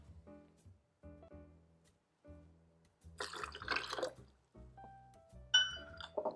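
Half a cup of water is poured for a vegan coleslaw dressing, giving a brief trickling splash with a few light glassy clinks among quiet kitchen sounds, close and soft.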